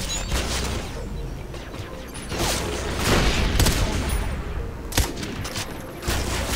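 Rapid bursts of automatic gunfire and scattered single shots from Far Cry 3: Blood Dragon crackle continuously, loud and near, with a few sharper impacts standing out.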